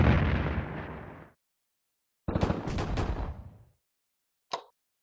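Artillery salvos from a Pacific War battle in a WWII strategy game come as two long, loud, rumbling barrages of blasts separated by silence, then a short sharp final crack.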